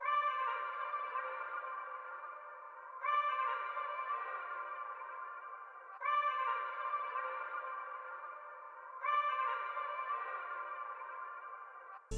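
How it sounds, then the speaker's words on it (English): A processed vocal phrase repeats four times in a steady loop, drawn out and echoey, with a sustained smeared tail. "the finished vocal phrase is sounding like this"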